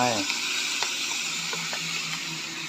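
Vegetables sizzle and fry in a hot pan for Thai home cooking, a steady close hiss with a few light stirring knocks.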